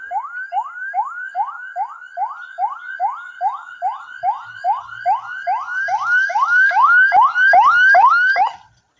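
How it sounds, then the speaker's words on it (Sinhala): Vehicle horns sound as people arrive, with a fast run of identical rising electronic chirps repeating evenly. The honking is loud and close, growing fuller and denser toward the end, with no talk. "පේනවද දන්නේ යාළුවනේ කට්ටිය හෝන් ගහගෙන එනවා."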